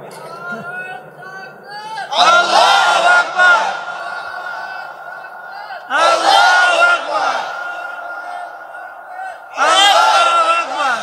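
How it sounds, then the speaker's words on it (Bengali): A large crowd at an outdoor Islamic sermon roars the takbir chant in three loud, sustained bursts of massed voices, each lasting over a second, separated by a lone preacher's amplified call between them. "হয়ে যাক তাকবীর।"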